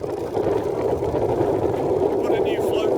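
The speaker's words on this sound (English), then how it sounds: "It started again, but I can't rev it. It'll only run on tick over." A sailboat's engine holding at tick over, unable to rev as if starved of fuel, giving a steady low idling drone close by with a voice partly over it.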